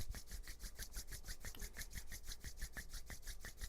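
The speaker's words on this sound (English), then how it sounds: "let's rub the palms together" Palms of the hands rubbed together briskly during a chair yoga session, a close, dry rasping swish repeating in quick, even strokes with no talking.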